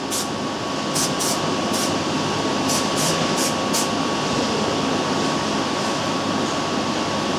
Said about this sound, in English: So just sprayed all the outside of that base foam now